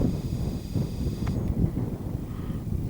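Wind gusting across a Scottish hilltop near Glen Tarken and Loch Earn, a loud steady low rumble buffeting the microphone, with brief faint higher tones partway through and no talk.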